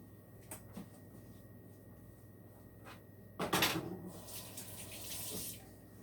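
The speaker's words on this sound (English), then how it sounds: "had to do a quick wash again." Brief burst of water running into a kitchen sink for a quick rinse during banana muffin and fritter baking, rising mid-clip over quiet room tone with a few faint knocks before and after.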